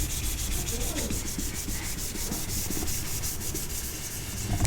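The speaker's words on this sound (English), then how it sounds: "And I'm avoiding sanding where the gold is." A wooden TV tray sanded by hand: steady, continuous rasping strokes of abrasive on wood, close and fairly loud, with a faint background hum and no voices.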